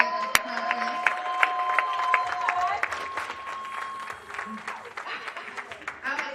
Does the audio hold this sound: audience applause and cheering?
yes